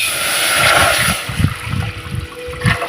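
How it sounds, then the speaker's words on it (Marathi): Water gushes and splashes into a container, a close, loud pour with gurgling pulses that rise and fall as it fills. "तर हे एक पूर्ण भरून मी पाणी टाकते"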